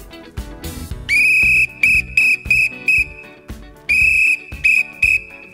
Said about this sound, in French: J'essaye les sifflets.